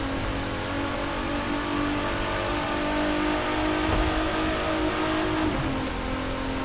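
A modded 800-horsepower Nissan GT-R accelerating hard, its engine roaring steadily and loudly with a broad, sustained rumble that holds through the whole stretch without any talk.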